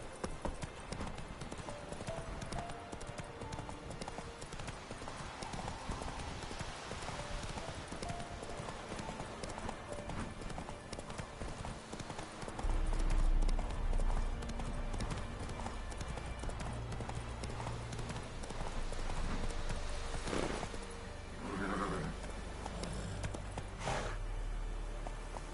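A horse's hooves clip-clop at a steady trotting rhythm in the video game The Witcher 3, running continuously beneath a dense, busy game soundscape.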